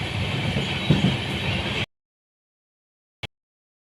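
Sairang to Kolkata Express passenger train running through Mallalpur station without stopping, a steady loud rumble of wheels and carriages close by that cuts off abruptly, followed by silence and one brief click.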